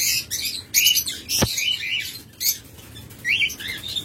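A master pair of lovebirds in a cage chirp in quick, bright bursts at close range, with a sharp flutter of wings partway through.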